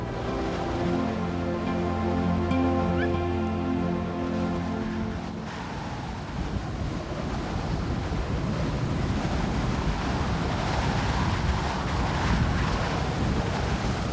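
Blizzard wind sweeping across the Siberian tundra, a loud, steady roar that gusts and buffets, preceded briefly by a sustained tonal hum that fades as the wind takes over.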